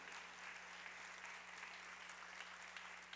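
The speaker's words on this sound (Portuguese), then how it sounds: "Você pode até dar uma salva de palmas para o nosso Deus." A church congregation claps in continuous, even applause that sounds faint and distant. A steady low hum runs underneath the clapping.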